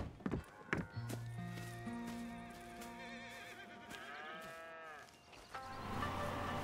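Cattle mooing on a farm in the video game Red Dead Redemption 2, with long, drawn-out low calls repeated over several seconds alongside steady in-game background sound.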